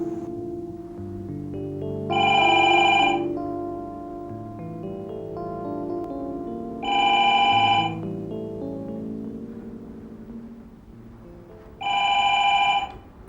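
A telephone rings three times in a Pakistani television drama, bright trilling bursts about two seconds long spaced several seconds apart, over a bed of soft sustained background music.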